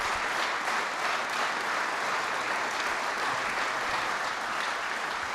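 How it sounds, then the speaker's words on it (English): Applause from the audience at a White House executive order signing on energy independence, a steady dense wash of clapping filling the room, loud and continuous with no talk over it. "Would you give them all another round of applause?"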